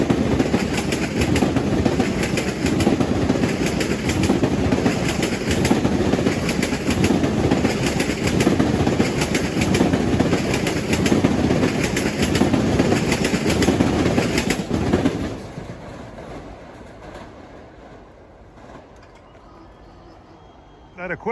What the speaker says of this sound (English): Here comes train 2011, Ronkonkoma, New York at 6:53